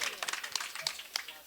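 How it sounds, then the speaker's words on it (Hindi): Scattered audience clapping at an Alha folk singing event, uneven individual claps at moderate distance, rather faint and sparse. "तालियां बजती रहनी चाहिए।"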